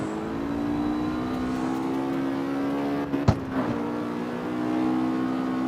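A Ford Mustang's engine in the CarX Street racing game holds a steady, humming drone. A brief sharp knock or clunk breaks in midway before the engine note carries on.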